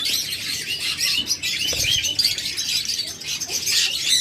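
Caged budgerigars and lovebirds chirp continuously in a busy, overlapping chatter of high tweets, with faint low background rumble and no voices.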